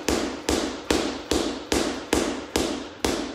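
Medicine ball chest passes during a workout circuit, eight sharp, loud thuds at a steady, fast rhythm of about two per second, each ringing briefly, with no talk.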